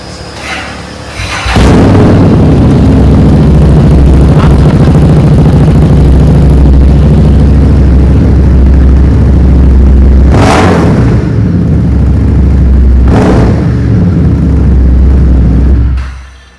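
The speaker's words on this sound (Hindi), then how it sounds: "पहले हम आइडल पे इसका साउंड सुनेंगे कि आइडल में ये कितना साउंड प्रोड्यूस करती है।" A Harley-Davidson Street 750 idles through a loud aftermarket exhaust: a deep, steady, booming rumble held close for over ten seconds, with a couple of brief swells before it fades out.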